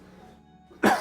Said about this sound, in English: I've still got a bit of a cold. Occasionally we're going to be coughing.